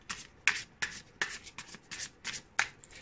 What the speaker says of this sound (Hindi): ओके, हमने कार्ड्स को शफल कर लिया है।